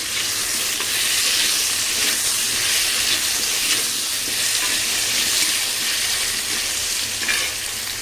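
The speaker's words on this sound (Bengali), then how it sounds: "তার জন্য আলু ভেজে নিচ্ছি, আলু দিয়ে করব আজকে" Potato pieces fry in hot oil for a Bengali lentil-fritter curry, giving a steady, close, fairly loud hiss and crackle that runs unbroken with no talking.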